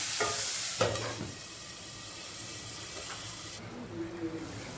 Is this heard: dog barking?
no